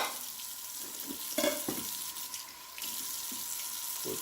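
Pot lid rinsed under a running kitchen tap into the sink: steady hissing water stream with brief clattering knocks of the lid, close and quiet.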